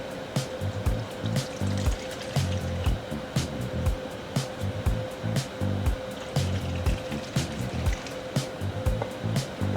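Pouring a pint of 1% milk into a pot for a chicken scampi sauce gives a steady liquid splashing and trickling that runs the whole time, close by, with no talking.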